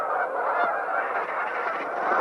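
Canada geese at Horicon give a steady, dense chorus of overlapping honks and calls from a large flock, continuous and moderately loud with no voices over it.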